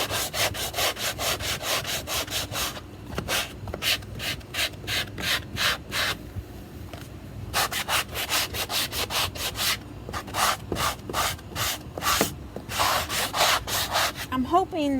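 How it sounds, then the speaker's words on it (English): A Dollar Tree sanding block is rubbed back and forth across a wooden cabinet door by hand, producing close, rhythmic rasping strokes in quick bursts with brief pauses between sets. "this is a sander that I got, a sanding block that I got from the Dollar Tree, and we're gonna start sanding."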